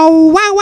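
A single drawn-out, rising dog-like howl, loud and close, voiced as a human imitation within a comic French song.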